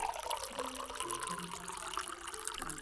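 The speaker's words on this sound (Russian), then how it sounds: "Бабушка наливает чай." Tea poured from a pot into a cup, a soft steady liquid trickle and splash running throughout at low level, with no talk.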